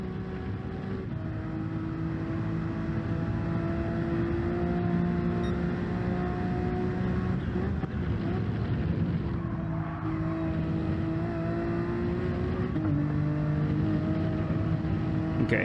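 A Lamborghini race car lapping in a racing video game at Kyoto Driving Park, its engine droning steadily with rising and falling pitch through gear changes, loud and continuous with no talking.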